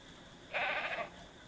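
A young goat in Ranch Simulator gives one short, loud bleat of about half a second over quiet background noise.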